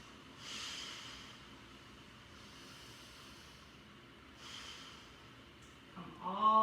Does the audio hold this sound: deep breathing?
yes